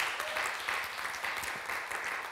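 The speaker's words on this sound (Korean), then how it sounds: "하나님께 영광의 박수 올려드립시다." A church congregation applauds during a Sunday sermon, a dense, steady wash of clapping from many hands throughout, fairly close and even in loudness.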